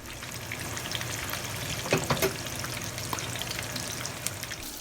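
Homemade chicken nuggets fry in hot oil, a dense bubbling sizzle close by, with a couple of brief clicks and taps as chopsticks separate the pieces.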